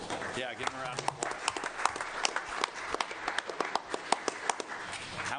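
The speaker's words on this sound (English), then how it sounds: "give him a round of applause" Audience applause with scattered sharp claps fills a council chamber for a Spanish Fork High School bull rider who competed at the state championship, steady and moderately loud from start to finish, with some voices mixed in beneath it.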